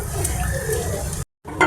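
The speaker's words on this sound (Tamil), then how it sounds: "இதை அப்படியே நல்லா கொஞ்சம் நேரம் பொன்னிறமாக வறுத்து எடுத்துக்கலாம்." Chopped almonds and cashews roasting in a pan, a brief close sizzle with light stirring scrapes, cut by a short silence before the sound returns.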